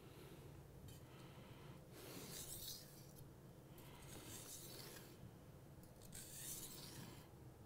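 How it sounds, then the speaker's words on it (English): Steel kitchen knife drawn across a whetstone with light pressure, giving repeated soft rasping strokes in a slow rhythm, close and fairly quiet, with no talk. "Still minimal pressure, just moving that knife through the stone."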